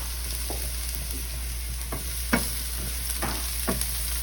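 Shallots sizzling gently in olive oil in a pan, a steady soft frying hiss with several brief stirring scrapes spaced through the clip, heard alone with no talk.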